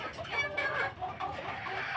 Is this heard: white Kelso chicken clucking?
yes